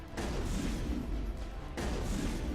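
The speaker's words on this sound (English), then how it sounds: "Whoa, missile incoming." A missile strike in the Mass Effect game during the Virmire mission, heard as two heavy booming impacts about a second and a half apart, each a sharp broadband burst followed by rumbling.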